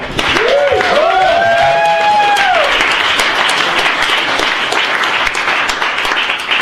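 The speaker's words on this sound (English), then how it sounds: "So big round of applause." A startup-pitching event audience applauds steadily and loudly in a dense, continuous wash of clapping, with a voice carrying over the start as the crowd keeps going.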